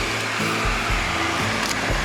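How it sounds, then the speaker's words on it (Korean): Air conditioning blower in an Alpheon 2.4 sedan runs as a steady, loud whoosh heard from inside the cabin, with low rumbling under it and no one speaking. "제가 그 온도 저기 에어컨 한번 틀어볼게요."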